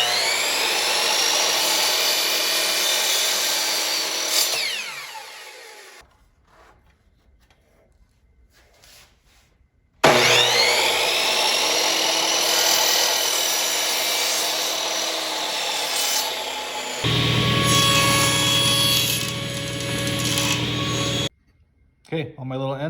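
A power saw cuts small wooden miters for the ends of a playing card holder, running in loud whining bursts that spin down between cuts, separated by pauses of near silence.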